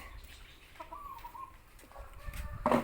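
Soft, short clucks from a hen raising chicks, against a low rumbling background, with a louder burst of noise near the end.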